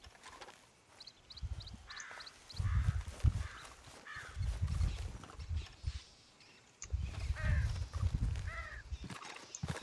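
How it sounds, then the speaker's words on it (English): Crows caw repeatedly in Red Dead Redemption 2, several short harsh calls spread through the scene over rumbling game ambience and low thuds, with no talking. "And you can also find raven. I mean crow."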